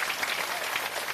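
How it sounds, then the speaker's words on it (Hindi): A crowd applauds for Prashant Kishor at an outdoor village gathering in Jitapur panchayat, Murliganj, producing a brief, dense wash of many hands clapping at once with no talking over it. "एक बार जोरदार ताली बजाइए आदरणीय प्रशांत जी।"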